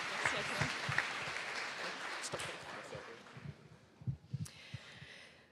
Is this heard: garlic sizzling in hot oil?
no